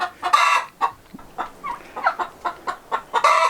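Chickens cluck in a steady series of short, close calls from Muscovy nest boxes, with a few louder squawks at the start and end.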